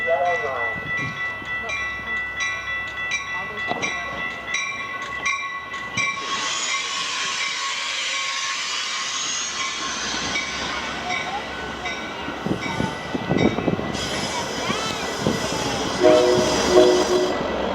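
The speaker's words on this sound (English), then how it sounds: "The Chicago Union Station is now arriving." A train pulls into Chicago Union Station during a railroad festival, with a steady rumble of railcars, a brief pulsing horn or bell early on, and squeals and clatter as it slows nearby.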